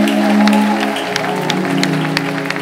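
A church congregation applauds in a dense, sustained wash of clapping, with a few sharper claps standing out and a low voice or music tone beneath.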